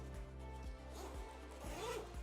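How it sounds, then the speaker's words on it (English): A USA-made YKK number 10 zipper on a backpack being opened, giving a loud, close zipping rasp in several quick rhythmic pulls, heard alone without talk. "this bag has the smoothest zippers I've ever seen in a bag."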